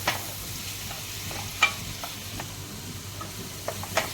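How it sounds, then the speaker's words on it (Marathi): Chopped onion sautéing in a pan for chicken pav bhaji: a soft, steady sizzle with a few sharp clicks of a spatula against the pan, no voices. "आता आपण याच्यामध्ये हा जो कांदा आहे बारीक केलेला तो घालणार आहोत। आता व्यवस्थित परतून घेऊया।"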